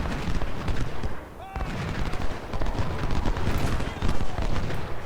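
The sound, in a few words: skirmisher cover fire in Ultimate General: Civil War video game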